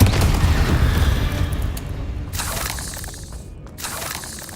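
A Bombarda explosion spell in Hogwarts Legacy lands as a loud, close boom with debris crackle that decays over a few seconds, followed by two softer bursts of scattering rubble.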